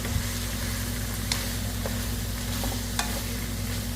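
Squash and string beans being stirred in a pan for ginataan, a steady sizzle with a low hum beneath and a few clicking scrapes of a spoon, no talking.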